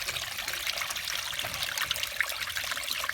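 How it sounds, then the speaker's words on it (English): Water trickles and splashes steadily out of the drain filter of a Beko washing machine, a soft continuous dribbling stream with no voices. "here's water coming out. Lots of it."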